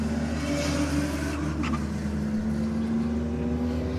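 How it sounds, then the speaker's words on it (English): A turbocharged Toyota Chaser drag racing at Sydney Dragway gives a continuous loud engine roar, with a sustained turbo whine rising and falling over the steady drone. "Hear the turbo working hard in the Chaser"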